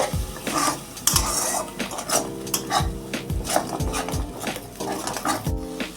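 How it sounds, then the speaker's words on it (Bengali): A spatula stirs ground cumin and Kashmiri chili powder in a pan for fish kalia, giving repeated close metal scrapes and clinks against the pan over a faint sizzle, with no talk. "সমস্ত উপকরণগুলো খুব ভালো করে আমি কষিয়ে নিচ্ছি"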